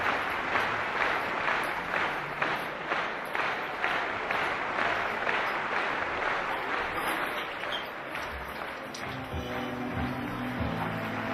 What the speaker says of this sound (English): Can you hear the crowd going wild?